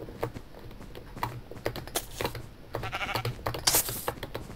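Sheep bleat faintly in the Minecraft video game beneath a steady clatter of computer keyboard typing and clicks, the bleats brief and partly masked.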